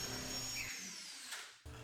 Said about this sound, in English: then we're going to drill our pilot holes